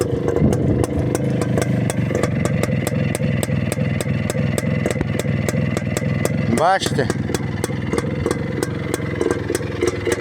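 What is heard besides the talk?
Muravey motor scooter engine running, exhaust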